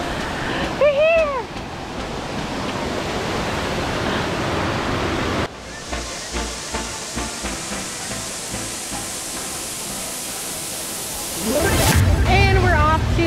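A waterfall in Hamilton fills the clip with a loud, constant roar of rushing water, with brief voices at the beginning and end.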